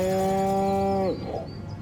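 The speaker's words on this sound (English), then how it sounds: "Again with the moo." A single long cow moo from Destroy All Humans!, a loud, steady, tonal low call lasting about a second before cutting off into quiet ambience.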